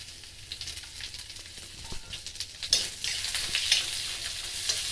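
Onion fries with sliced boiled potato rounds in a pan: a quiet sizzle jumps to a louder, crackling hiss partway through, with stirring scrapes.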